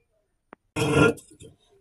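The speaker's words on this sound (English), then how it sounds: "it gives me the carbonated so I can burp" A single person lets out a loud, throaty burp after drinking carbonated, sugar-free ginger ale. It comes after a brief faint click, lasts about half a second, and tails off into quieter voiced sounds.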